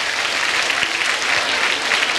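Steady applause from a studio audience in Poland, clapping for a young girl singer at a children's Eurovision national concert, dense and even throughout with no voices on top.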